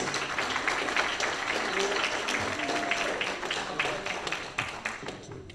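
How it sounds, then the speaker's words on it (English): An audience applauds at a public workshop on deep-sea mining, with steady, dense clapping from many hands that thins and fades toward the end. "Let's give them a round of applause."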